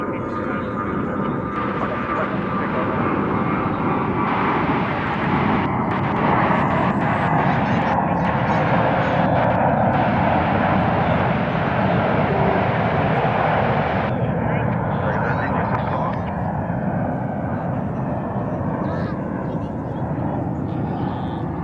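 An American Airlines Boeing 777 bound for Paris at Dallas–Fort Worth airport, a loud sustained jet roar that swells and holds with a broadband rumble, heard from nearby with a voice talking over it.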